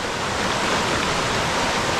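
Heavy water pouring at Dudhsagar waterfall in Goa, a loud, unbroken roar of rushing water close by, filling the whole clip with steady broadband noise and no voices.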